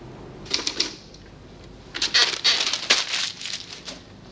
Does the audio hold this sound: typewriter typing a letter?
yes